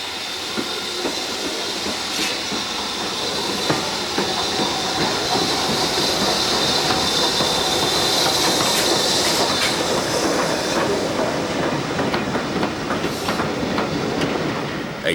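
Standard Tank steam locomotive 80079 departs eastbound on the Severn Valley Railway, with rhythmic clickety-clack of wheels, hissing steam and a steady rolling rumble sustained close by.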